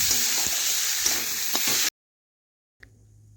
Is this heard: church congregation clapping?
no